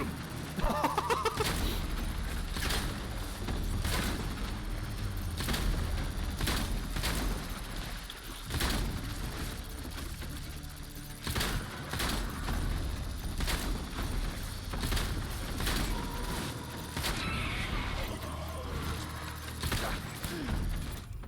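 Shotgun blasts in the game Death Stranding, repeated sharp booms at irregular intervals over a continuous bed of combat noise and effects, with no clear talk.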